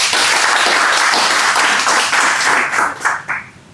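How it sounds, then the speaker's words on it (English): A business panel audience applauds steadily, dense clapping filling the room before tapering off into a few scattered claps at the end. "please give an applause for Safi"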